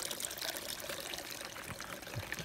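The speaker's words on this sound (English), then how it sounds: "Came to this little water source." Water trickling at a small trail water source, a continuous close splashing burble with light bright spatters throughout the short stretch, no voices.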